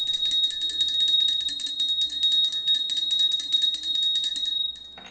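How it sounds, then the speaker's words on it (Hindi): A small hand bell is rung to welcome the deity at a home shrine, clanging rapidly and continuously with a bright metallic tone for about four and a half seconds, loud and close, then stopping. "और जब भी पट खुलें तो हमेशा हम घंटी बजाते हैं भगवान को"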